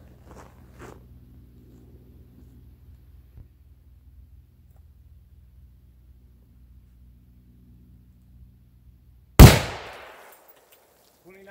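A single loud rifle shot from a 6.5x284 Norma firing a Nosler 129gr Accubond at a long-range session: one sharp, close blast that decays quickly after a long stretch of quiet low hum.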